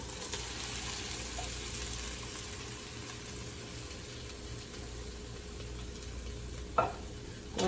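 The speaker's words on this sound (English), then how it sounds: "Stir that around and coat those vegetables and that garlic up in there." Fire-roasted tomatoes stirred into vegetables and garlic in a pot over medium heat give a soft, continuous sizzle and gentle stirring, quiet and close, with one sharper knock near the end.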